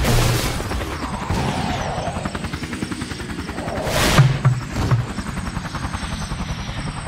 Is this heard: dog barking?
no